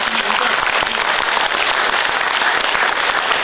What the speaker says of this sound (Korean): 여러분들이 박수를 좀